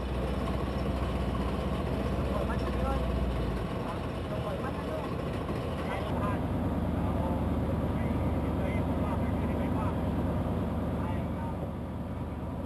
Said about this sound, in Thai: เสียงเครื่องยนต์จากเรือประมงขนาดใหญ่กว่า10ลำดังกึกก้องทั่วบริเวณทะเลอ่าวไทย